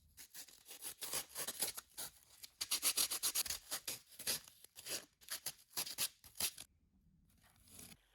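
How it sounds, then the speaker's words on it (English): Foam sculpture being carved into small toes and feet, a close, dry rasping and scraping in quick irregular strokes, loud and steady for most of the stretch before dropping to near silence. "here's some fun ASMR footage of me carving little toes and feet."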